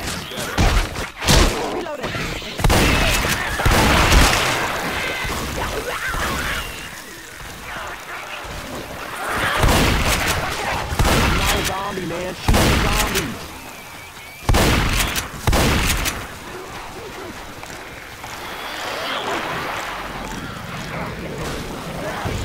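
Gunfire while fighting zombies in the video game Left 4 Dead, irregular loud shots and bursts with heavy thuds scattered among chaotic combat noise, some clustered volleys and quieter stretches between them.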